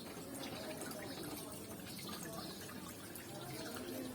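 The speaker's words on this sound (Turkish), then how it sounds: "Yukarıdan aşağı şöyle şelale şeklinde su akıyor." Water cascading down a small garden pond waterfall with fish below and a pump system underneath, a steady, continuous splashing rush heard close up and alone throughout.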